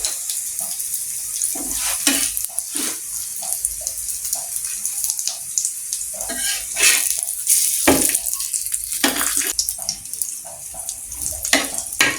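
Lachha paratha frying in oil on a tawa over low heat, a soft continuous sizzle with scattered crackles and a few louder pops, close and alone without talk.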